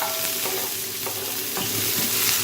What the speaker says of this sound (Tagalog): pwede na nating igisa ang ating sibuyas